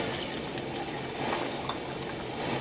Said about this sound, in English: So right here I have 32 ounces of room temperature water. I'm just going to go ahead and put it in the pot here.